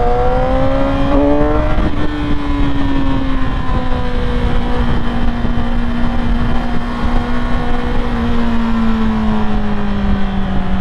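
Cars pass along a road in a loud, continuous engine drone whose pitch slowly sinks as the traffic moves by, with no voices over it.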